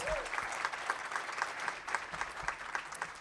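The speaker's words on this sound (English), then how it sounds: "Let's just applaud one more time for the Honorable Andrea Stewart Cousins." Steady applause from an audience at a legislative breakfast, moderately distant and continuous throughout, with no voices standing out.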